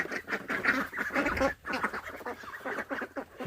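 Several ducks quack close by in a busy, overlapping chorus of short raspy calls with brief pauses, loud and clear with no talking.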